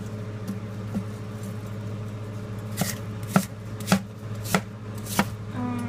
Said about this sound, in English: Okay, so then I just slice my apple. I like my big knife better.